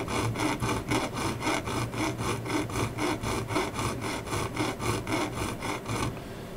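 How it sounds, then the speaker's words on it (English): A file strokes back and forth to flatten a watch dial foot, about twenty steady, even rasping passes close up that stop near the end. "You can file it like this, just to flatten it for the dial foot and prep it properly"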